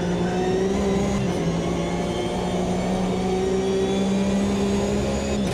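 Porsche Cup race car in Automobilista 2 at Zolder, a steady engine drone holding a near-constant pitch with slight shifts, loud and continuous with no talk.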